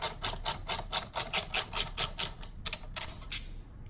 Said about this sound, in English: To remove it, we need a 10mm socket